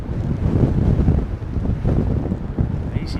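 Strong gusty wind buffets the microphone during Storm Darragh at London Heathrow Airport, a loud, continuous low roar that swells and eases without pause, with no voices over it.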